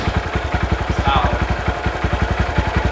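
A Honda Grom motorcycle with its stock exhaust idles up close. The engine gives an even, rapid chugging pulse that stays steady and moderately loud for the whole clip.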